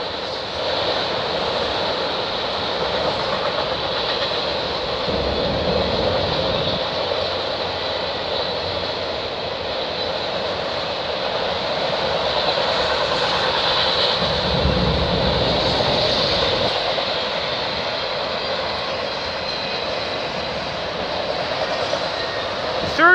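A CN freight train speeds past in Milton, Ontario, a loud, sustained roar of wheels and rail noise with steady rumbling that holds close throughout, briefly swelling as cars pass.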